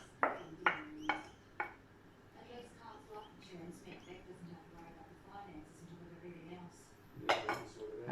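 A spoon clinks and scrapes against a dish while Thai glass noodle salad (yam woon sen) is scooped onto a plate, with a few sharp clatters at the start and end and someone talking in between.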